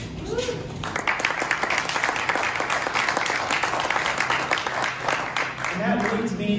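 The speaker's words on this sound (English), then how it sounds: "we should just have a round of applause for the Rochester Roadrunners" Audience applause at a community meetup in Rochester, a dense, steady burst of many hands clapping for several seconds, with a voice speaking briefly before it starts and again as it fades.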